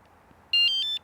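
An electric bicycle's anti-theft alarm emits four quick, loud high-pitched electronic beeps in close succession, close up after near silence.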